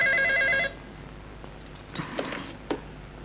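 A telephone bell rings in a short, loud trilling burst, then stops, leaving a quiet room with a few soft knocks and rustles.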